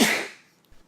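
A single close, loud sneeze bursts out and fades fast, then a faint short breath follows.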